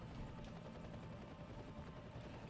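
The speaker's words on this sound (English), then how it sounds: "I hear helicopters, and I don't think I like that." Helicopter in the shooter game F.E.A.R., a steady low rotor thrum and broadband drone, faint and continuous for the whole stretch, with no voices over it.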